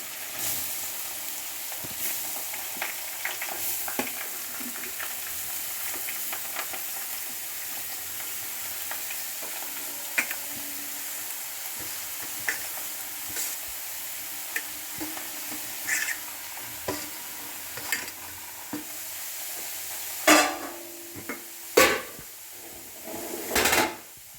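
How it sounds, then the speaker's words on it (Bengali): Grated carrots for gajar halwa fry in a pan with a faint, steady sizzle, then the spoon scrapes and knocks against the pan in louder, sharper strokes toward the end. "এবার আমি গ্রেট করা গাজরগুলো এর মধ্যে ছেড়ে দিলাম।"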